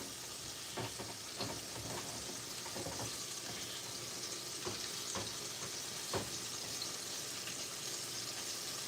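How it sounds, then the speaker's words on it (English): Mac and cheese sauce with milk is stirred in a pot, a quiet, steady bubbling simmer with soft scraping strokes of a spoon recurring every second or so. "So you're just going to keep stirring, keep stirring."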